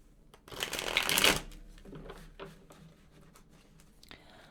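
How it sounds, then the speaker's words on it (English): Tarot cards are shuffled by hand at close range: a dense, loud riffle burst, followed by softer taps and slides of the deck. "So just gonna shuffle one more time here."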